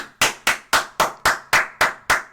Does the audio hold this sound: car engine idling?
no